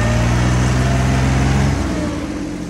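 A tractor engine, a Swaraj 855 with big tyres working a field, runs with a loud steady low drone and strong harmonic rumble, close by, easing slightly in pitch toward the end.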